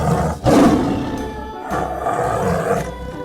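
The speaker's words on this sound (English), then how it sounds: "Tiger." A tiger's deep roar swells loud and close, then rolls on as a long rumbling growl with a second surge of snarling near the end, heard alone without speech.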